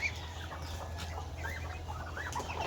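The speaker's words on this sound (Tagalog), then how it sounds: "May manok pa yan, may manok." Chickens cluck in a farmyard in Mindanao among many ducks, a few short soft calls rising over steady low background noise, fairly distant and with no voices.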